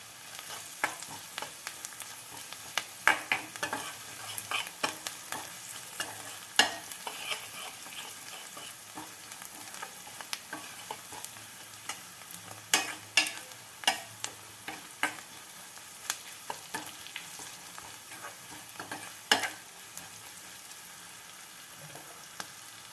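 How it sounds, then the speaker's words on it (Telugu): Pieces of bottle gourd fry in a pan while being stirred, with a steady, moderately loud sizzle punctuated by scraping and clinking stir strokes throughout, and no talking. "పచ్చివాసన పోయే వరకు వేయించుకుందాం"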